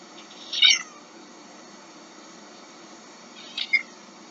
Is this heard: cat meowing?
yes